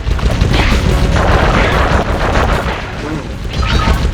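Turret guns fire without pause in the Sly Cooper and the Thievius Raccoonus video game. Loud, dense booming blasts fill the whole stretch, with possible voices mixed underneath.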